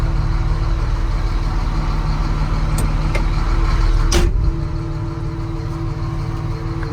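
A Caterpillar 655D wheel loader's diesel engine runs steadily with a deep, even drone heard close up, and its level drops slightly partway through before settling into a continued hum.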